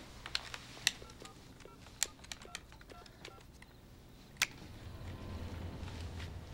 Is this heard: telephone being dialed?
yes